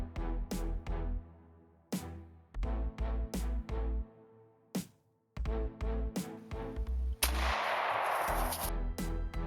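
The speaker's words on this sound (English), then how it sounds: "We wanted to find real sound of a gunshot." A real recorded gunshot, processed for a mobile game, plays as a series of sharp, loud bangs with ringing tails, spaced irregularly, then one longer hissing blast near the end.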